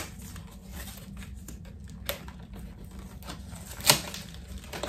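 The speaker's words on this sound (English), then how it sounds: "And we're just gonna pop the little envelope here." A small paper envelope from a subscription box being popped open and handled, with soft crinkling and tapping throughout and a sharper tear or snap near the end, close and fairly quiet.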